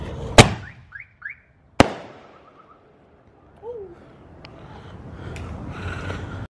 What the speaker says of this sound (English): The first one wasn't that loud, but a lot of car alarms went on.